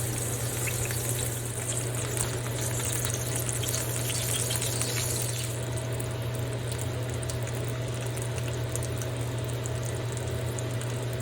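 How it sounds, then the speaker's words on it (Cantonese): Lotus root and meat pancakes fry in a pan with a steady, even sizzle and a constant low hum underneath, lasting throughout and never broken by speech. "蓮藕餅煎好晒啦，聞到好香。"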